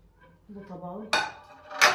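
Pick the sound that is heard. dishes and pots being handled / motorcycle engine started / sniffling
dishes and pots being handled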